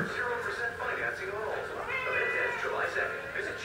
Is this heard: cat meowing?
yes